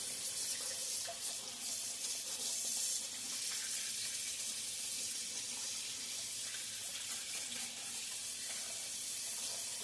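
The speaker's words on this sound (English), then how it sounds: "Always wash your hands after dealing with" Hands being washed under a running kitchen tap after handling raw chicken: a steady, fairly faint hiss of flowing water splashing into a sink, unbroken and without speech.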